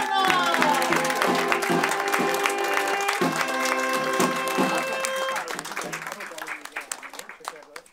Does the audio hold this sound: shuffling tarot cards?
no